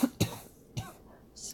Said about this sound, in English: Excuse me again for the coughing.